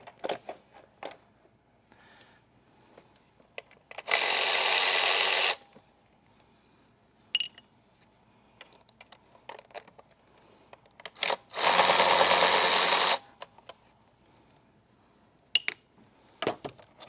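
A handheld power tool whirs in two bursts of roughly one and a half seconds each during timing chain work on a BMW M62TU V8, with scattered clinks and taps of parts and tools in between.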